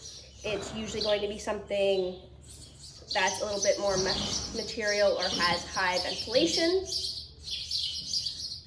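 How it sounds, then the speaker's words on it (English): Small birds chirp and twitter persistently inside a horse barn, a bright high-pitched chatter running under and between a nearby person's speech. "Sorry about the birds."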